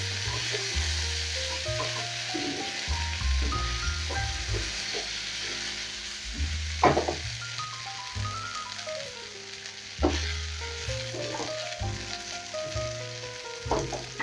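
Chicken liver dry-frying in a pan gives off a steady, soft sizzle, broken now and then by the scrape and clack of stirring.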